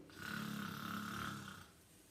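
A voice imitates snoring with one drawn-out, low, rasping rumble lasting about a second and a half, then fades.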